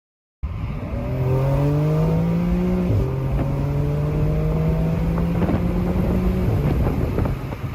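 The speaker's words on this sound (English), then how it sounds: "here's a sample acceleration in my Porsche. I'm going to drive up to 40 miles per hour and then hit the gas pedal" A Porsche 911 Carrera 4S accelerates hard from about 40 mph, its engine climbing through rising pitch in two pulls with a brief shift break, loud and close inside the car with wind rush underneath.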